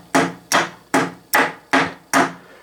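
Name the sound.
hammer striking the T-handle of a mystery tool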